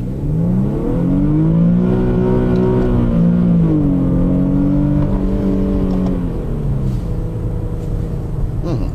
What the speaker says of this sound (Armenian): Ով մի անգամ գոնե լսել է Infiniti-ի ձայնը, ինձ կհասկանա։